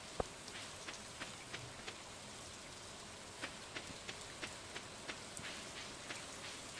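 Rain falling in the farming game Stardew Valley, a steady soft hiss with scattered light drip ticks spread evenly across the clip, fairly faint and with no voices.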